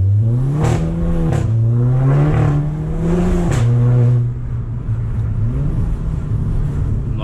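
A Volkswagen Golf GTI accelerating hard: a loud, close engine note rises through the revs, drops, then climbs again, with harsh wide-band tire noise layered over it.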